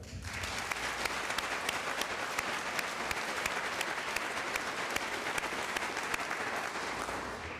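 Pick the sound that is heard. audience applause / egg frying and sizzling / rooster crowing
audience applause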